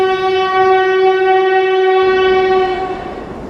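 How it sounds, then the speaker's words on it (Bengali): A cartoon train pulls out of a station with a loud, sustained horn blast that holds steady and then fades out near the end, with a low rumble beneath. "এই বলতে বলতে ট্রেনটা আবার ছেড়ে দিল নিজের গতিতে"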